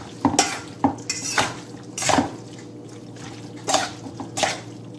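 Olive oil and vinegar dressing whisked briskly in a bowl, loud clattering strokes of a utensil against the sides coming in irregular bursts, close and alone with no voice.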